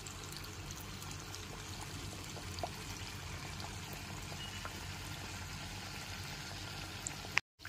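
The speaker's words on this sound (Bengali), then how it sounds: "ওই একই রকম ভাবে সমস্ত মালপোয়াগুলো ভেজে নেব।" Malpua batter pancakes frying in oil, a faint, steady, even sizzle with no break until a sudden cut at the very end.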